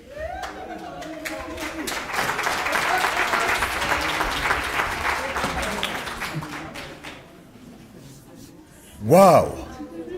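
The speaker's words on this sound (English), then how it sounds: "Let's give them a big hand once again." University audience applauding at a multilingual language policy launch, clapping that swells and holds for several seconds, then thins out, followed by a brief loud vocal exclamation near the end.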